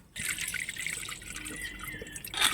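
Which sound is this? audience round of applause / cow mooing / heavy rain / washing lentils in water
washing lentils in water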